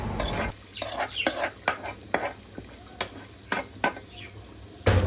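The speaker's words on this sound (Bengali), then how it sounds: "একটা কড়াইতে পেঁয়াজ কুচি, রসুন কুচি আর 1 চিমটি পাঁচফোড়ন নিয়ে বাদামি কালার করে এবার মাংসের মধ্যে ঢেলে দেব।" Fried onion, garlic and panch phoron tempering poured into beef, heard as a burst of sizzling broken by repeated sharp scrapes and clanks of a spoon stirring in a metal pan, close and uneven, no speech.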